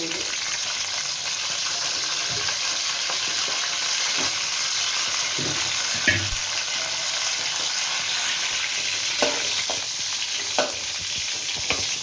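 Brinjal (eggplant) pieces fry in oil in a pan with a steady soft sizzle, broken by a few sharp clinks and stirring scrapes.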